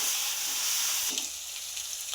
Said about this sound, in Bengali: আমি ম্যারিনেট করা চিকেনটা দিয়ে দেব। চিকেনটা দিয়ে দিয়েছি। এবার আমি সুন্দরভাবে কষে নিই।